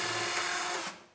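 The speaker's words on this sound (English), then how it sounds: "And then I'm gonna start my drill." Power drill spinning a self-centering bit while building a cabinet, a loud steady whir held for about a second before the motor cuts off and winds down.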